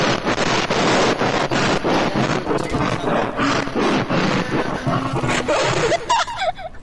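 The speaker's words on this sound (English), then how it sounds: "check out the sound of my new fan" Steady, loud rushing air noise with a fluttering, pulsing texture from a running electric fan close to the microphone.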